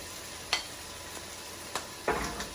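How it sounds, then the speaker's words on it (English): Onions browning in a pot for chipotle beef with potatoes, a quiet faint sizzle broken by a few soft stirring scrapes and clicks, close by with no talking. "My onions, as you can see, they're already browning a little"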